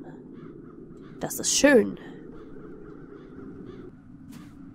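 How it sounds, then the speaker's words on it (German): Crows caw in the Das Schwarze Auge video game Satinavs Ketten, a short burst of harsh calls set back in the background beneath a person speaking over steady ambient game sound. "Die Krähen fliegen hier noch überall rum im Hintergrund."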